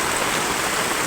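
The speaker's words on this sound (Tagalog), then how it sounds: "Sumuulan na naman, no?" Steady, dense hiss of heavy rain pouring during a typhoon flood, a constant close wash of water with no pauses and no voices.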